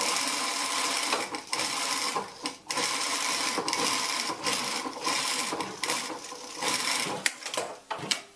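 A sewing machine runs a small 5 millimeter seam along fabric edges for a cowl neck warmer. It hums and chatters steadily up close, with brief pauses and restarts.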